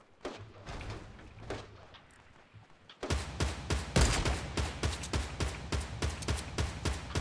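Gunfire in the video game Fortnite: a few scattered distant shots, then a dense run of sharp, evenly spaced bursts that rings out loud and near for the remaining seconds, with no speech.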